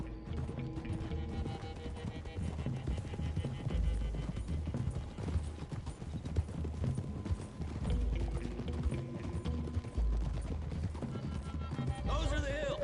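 Horse hooves clip-clop steadily while riding in Red Dead Redemption 2, a continuous rhythmic trotting under game ambience, with a brief speech-like voice and mechanical creaks mixed in.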